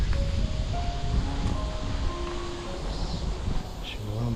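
Cool wind blowing along a mountain hiking trail on Gwanggyosan, a broad steady rushing noise buffeting the microphone, with faint birdlike chirps and distant tones mixed in.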